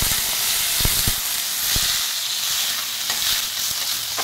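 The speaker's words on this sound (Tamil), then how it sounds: "எல்லாமே பாருங்கள் நல்லா பொரியுது." Masala spices frying in oil in a clay pot, a steady loud sizzle and hiss with occasional sharp pops and stirring clicks, heard alone and close by.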